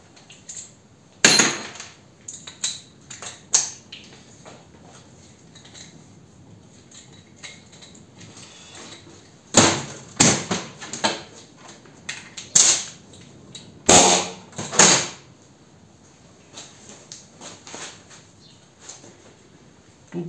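Chinese-made pneumatic air chisel hammering into metal, several loud rapid rattling bursts separated by pauses of quiet, close and sharp.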